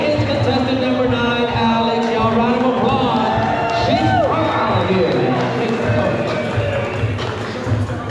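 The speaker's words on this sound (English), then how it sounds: "Round of applause." A lively crowd at a Harley-Davidson bikini contest in Palm Beach cheers and claps continuously, with whoops and shouting over a dense wash of noise, and a whistle-like rising tone cutting through midway.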